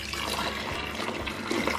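Lemon-scented LA's Totally Awesome bleach from a Dollar Tree bottle pours in a steady, close liquid splash while cleaning, a continuous trickle with no voices over it.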